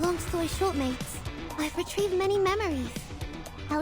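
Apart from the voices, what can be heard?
None of the usual background noises is heard.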